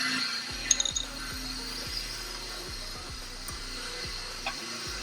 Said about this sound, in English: Using a wrench.